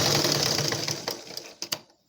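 Sewing machine running in a steady continuous whir while stitching darts into a blouse, close and fairly loud, slowing toward the end with a couple of distinct final clicks before stopping.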